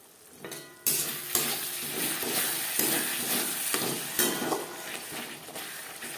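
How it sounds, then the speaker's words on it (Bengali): Spice masala being fried and stirred on a medium flame for a fish-head and potato curry, a steady close sizzle broken by repeated scraping strokes of a spoon against the pan, with no voices. "চার পাঁচ মিনিট মশলা কষিয়ে নেব লটু মিডিয়াম ফ্লেমে"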